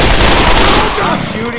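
Dense, sustained gunfire from several weapons in Left 4 Dead 2 during a Charger attack on the custom campaign "Derailed". It is loud and close, tapering slightly toward the end, with voices faintly mixed into the chaos.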